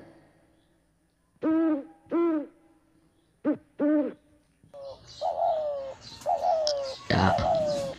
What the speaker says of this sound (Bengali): OWL আউল, আউল মানে পেঁচা।